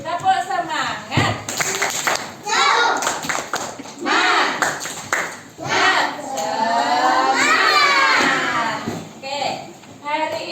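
Children at school doing a rhythmic spirit clap, tepuk semangat, with patterned bursts of clapping mixed with loud chanting voices of the group and an adult leading.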